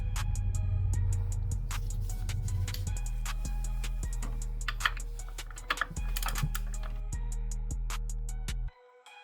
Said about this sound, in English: we set our torque wrench to 17 foot-pounds